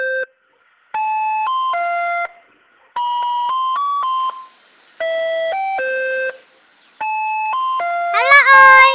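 A phone rings with a looping electronic melody of bright beeping tones in repeated phrases separated by short pauses, loud and close, ending in a rising chirpy flourish.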